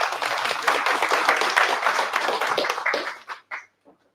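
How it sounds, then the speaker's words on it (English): An audience at an evening marine talk applauds to welcome a speaker, steady close clapping from many hands that holds for about three seconds, then breaks into a few isolated claps and fades to silence. "And let's give her a round of applause."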